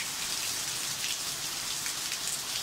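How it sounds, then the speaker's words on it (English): Heavy hail and rain pounding down in a downpour in Southern California's San Fernando Valley, a dense, unbroken hiss and patter that stays loud and even throughout. "You can hear the hail falling"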